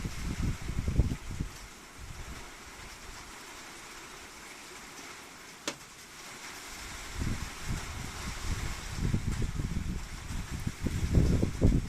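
Gusty wind after rain buffets the microphone in low rumbling bursts over a steady outdoor hiss in a garden, with no talking.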